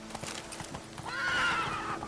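Geralt's horse Roach in The Witcher 3, hooves clip-clopping in a steady rhythm and then a close, drawn-out whinny rising over the footfalls.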